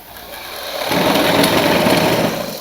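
Sewing machine stitching elastic onto the edge of a baby panty, a steady close whirring hum that grows louder and holds through most of the stretch with no talk.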